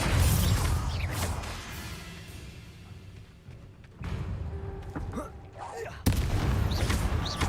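A Confringo blasting spell from a Harry Potter video game fires with sudden bursts of noise, a sharp blast near the end, amid quieter creaking game ambience and faint voices.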